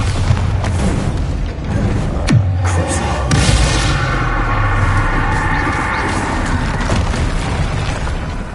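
Heavy booming from the Bombarda explosion spell in Hogwarts Legacy, with a sharp blast just after two seconds followed by a long rumbling roar amid loud continuous game noise.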